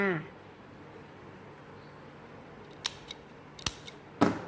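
Scissors snip the tip of a folded banana leaf while a Thai banana-leaf krathong is assembled, giving a few sharp, close cuts near the end of a quiet stretch.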